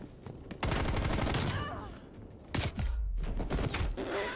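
M16 automatic rifle firing bursts in a video game, two loud dense volleys of rapid shots separated by a brief lull, with a voice speaking over the action.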